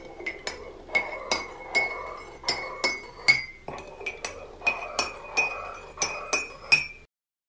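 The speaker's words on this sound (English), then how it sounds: "All you need to do is stir your spoon backwards and that sugar will come on out." A metal spoon clinks sharply against the inside of a coffee cup in a quick, regular series of about a dozen bright taps while sugar is stirred in, close and clear with no talk, then falls silent.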